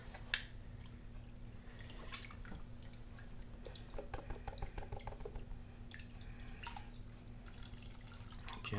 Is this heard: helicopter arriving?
no